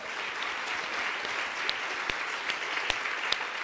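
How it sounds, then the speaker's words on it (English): An audience at a lecture applauds a centre's fifth anniversary with steady, even clapping from a crowd in a hall. It holds at a constant level throughout, with a few sharper individual claps standing out. "I think that deserves a round of applause."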